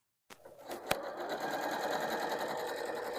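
A Janome sewing machine stitches patchwork fabric with a quarter-inch seam, starting abruptly after a short silence and then running as a steady, close, rapid mechanical whir.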